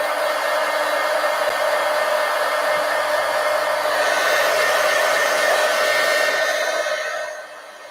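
A hair dryer blasts a steady, loud whooshing roar while drying paint on a collage poster, holding constant before tapering off and cutting to a lower hum at the very end.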